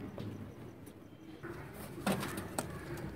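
A female Choha pigeon coos softly a couple of times, low and close, with faint rustling and handling noises around it.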